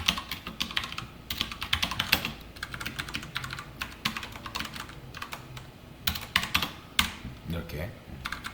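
Code is typed on a computer keyboard in quick, uneven bursts of close, clicky keystrokes with brief pauses between runs, while someone talks throughout.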